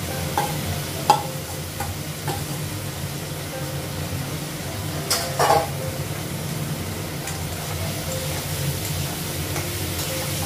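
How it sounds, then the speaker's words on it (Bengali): Potatoes fry with soybean chunks and spices in a pan over raised gas heat. A steady sizzle runs throughout, with a few spoon scrapes and a brief louder stir partway through. "আলুটা একটু ভেজে নিই"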